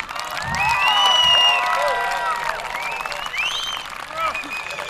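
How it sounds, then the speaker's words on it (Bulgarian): A crowd applauds the Etnoritam professional dance ensemble at the opening of the 2014 Zheravna folk costume festival. The clapping is dense and sustained, with scattered cheers and whoops, and rises early before easing off. "Аплодисменти за професионална танцова формация Етноритъм."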